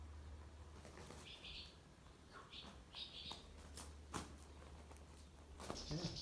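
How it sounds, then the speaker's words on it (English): Swifts or swallows flying outdoors in England, giving short high chirps and twittering calls in several brief bursts over a steady low hum and faint background noise. "We got some swifts or swallows or some sort of flying birds"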